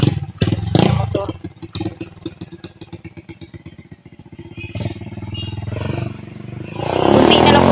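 A motorcycle engine idles with a fast, rattling putter, then rises and revs louder toward the end, close by, with people talking nearby at the start.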